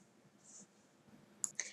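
Two quick, sharp mouse clicks close together near the end, closing a window in Eclipse on a computer, faint over a quiet room.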